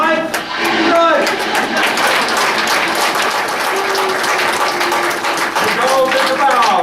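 Crowd applause for the sound technician as a melodrama closes, sustained clapping from many hands throughout, with voices mixed in near the start and the end.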